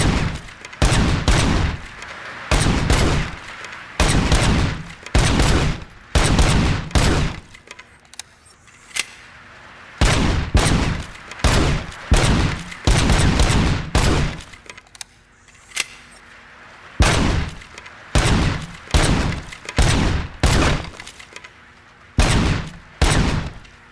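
Repeated bursts of gunfire in RoboCop: Rogue City, loud rapid volleys in short clusters separated by brief pauses, continuing throughout with no talk.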